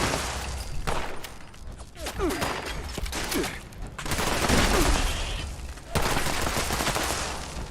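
Enemy robots in Fallout 76 pour out heavy gunfire, loud overlapping bursts and volleys with sharp individual shots, swelling and dropping in dense waves.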